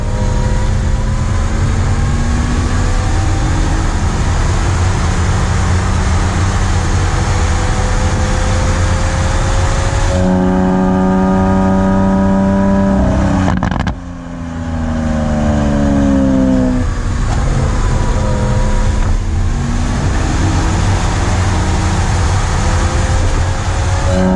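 Lamborghini Aventador S Roadster with its V12 engine revving and accelerating loudly nearby, rising harmonic sweeps climbing through gears, a brief dip around a shift, then pulling hard again.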